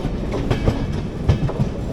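An AC Express passenger train pulls out of Panvel station, heard from inside as a steady loud rumble with rhythmic clickety-clack of wheels over rail joints.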